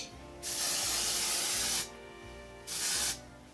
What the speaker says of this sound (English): I'm just gonna spray that all up in there